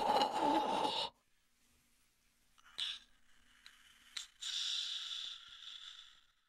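Eerie breathing in a scary narration, faint and close: a soft drawn-out exhale fading into near silence, a couple of brief sharp breaths, then a longer airy breath that slowly trails off.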